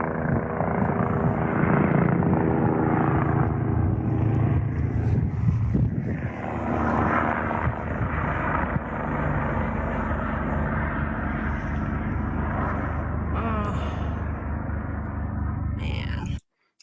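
Helicopters flying overhead in the sky, giving a steady, loud rotor and engine drone that holds for most of the stretch and cuts off abruptly near the end.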